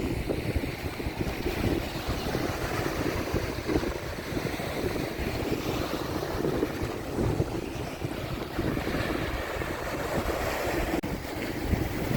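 Sea waves wash onto the beach at Sandsend on a windy coast, a dense continuous hiss and rumble of surf with wind noise buffeting the microphone throughout, steady and moderately loud.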